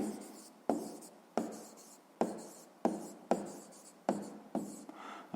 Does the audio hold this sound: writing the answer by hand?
yes